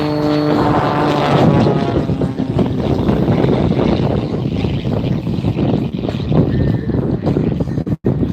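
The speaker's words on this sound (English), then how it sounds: "This Super Chipmunk has been highly modified with an airshow custom-built 350 horsepower motor, an advanced composite propeller, short wings, and a streamlined canopy" Heavily modified Super Chipmunk airshow plane with a custom 350-horsepower engine and composite propeller, its loud, steady engine drone and prop roar filling the whole stretch, with wind buffeting the microphone.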